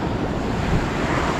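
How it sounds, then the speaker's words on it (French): Big sea waves splash against a boat, a dense, steady roar of surf and spray with gusting wind across the microphone, near and loud, with no one speaking. "Il y a des sacrées vagues là."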